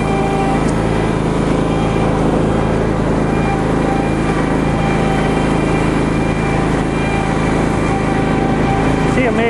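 A Cub Cadet Zforce SX 54 zero-turn mower's engine runs at a steady, loud, close drone throughout, with a constant buzzing tone and no change in pace.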